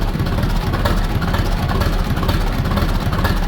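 A steady low tractor engine idles nearby, a continuous throbbing rumble with a faint rhythmic pulse and no voices; one cylinder is stronger than the other, giving a louder pop.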